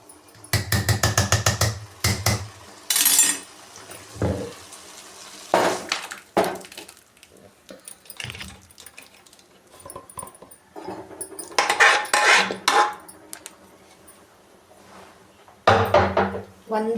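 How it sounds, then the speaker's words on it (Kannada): A utensil clanks and scrapes against a frying pan while khichdi ingredients of rice and lentils are mixed, in irregular loud knocking bursts, with a person talking between and over the strokes. "ಇವಾಗ ಇದನ್ನು ಈ ಬಾಣಲಿ ಒಳಗಡೆ ನಾನು ಮಿಕ್ಸ್ ಮಾಡ್ಕೋತೀನಿ"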